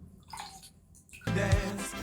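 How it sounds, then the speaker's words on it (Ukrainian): A sheet of lavash flatbread is plunged into water, a soft trickle followed by a louder sloshing splash that swells near the end. "Макаємо лаваш у воду."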